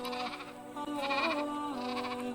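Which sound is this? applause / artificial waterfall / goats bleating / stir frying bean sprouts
goats bleating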